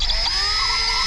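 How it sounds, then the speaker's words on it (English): A power drill whines at high, steady speed, close and loud, while opening the center hole of a Mustang front pony badge out to 8mm. "we're just going to open the center hole out to 8mm so we can pass the wire through. So just carefully drill."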